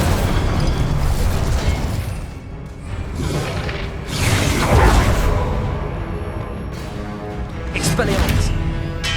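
Incendio fire spell cast in Hogwarts Legacy, heard as repeated whooshing, booming bursts over a dense, continuous bed of game sound, with the loudest flare near the middle.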